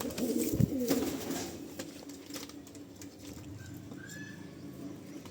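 Domestic pigeons kept for flying make a low, soft cooing burst near the start, then quieter murmuring over a steady indoor background hum, with no talk.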